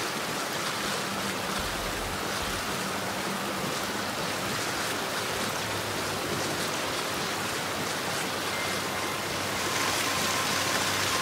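A waterfall in the video game Gears 5: Hivebusters roars as a dense, constant wash of rushing water, loud and unbroken throughout.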